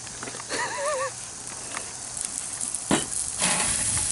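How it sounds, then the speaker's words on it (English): Steady crackling sizzle of a whole flour-dredged bluegill frying in a hot pan, close up, with brief clinks and faint background sounds. "the sizzle"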